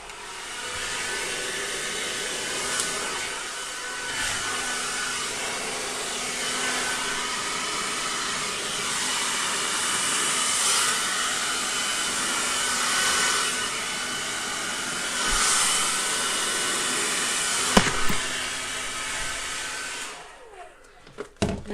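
A hair dryer blows steadily over wet acrylic paint for about twenty seconds, a loud close whooshing drone that shifts slightly in pitch as it moves, then cuts off near the end.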